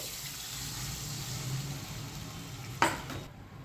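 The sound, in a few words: water poured into hot pan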